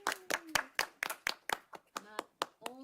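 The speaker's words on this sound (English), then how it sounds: "Let's have a little round of applause." A small group at a parks and recreation commission meeting gives a brief round of applause, a dozen or so sharp, separate claps in a loose rhythm, close and distinct, with a voice speaking faintly underneath.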